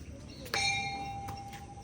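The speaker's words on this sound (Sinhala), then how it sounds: "අන්න බුද්ධ පූජාවට දැන් සීනුව නාදුනා වගේ එකක් ඇහුණා අපිට" At a Buddhist temple, a single bell is struck for the Buddha puja. One bright clang sounds, then its clear tone rings on and slowly fades over soft background noise.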